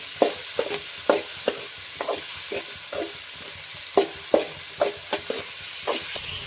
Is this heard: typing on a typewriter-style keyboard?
no